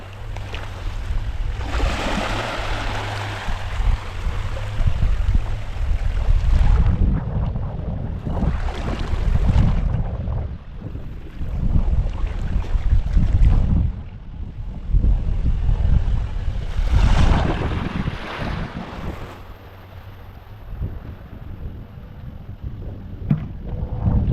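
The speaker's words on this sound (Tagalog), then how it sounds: "Sobrang lalaki ng alon mga ka-idol." Large ocean waves at a beach under strong northeast monsoon wind crash and roll in repeated surges, loud and rough, with heavy wind buffeting the microphone between breakers.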